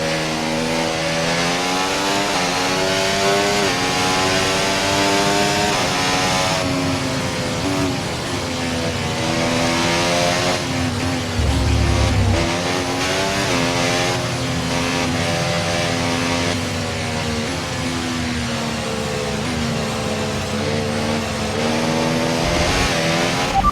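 An F1 race car in a video game pulls away at the Miami circuit, its engine screaming loud and close with a continuous high-pitched whine that rises and shifts through the gears.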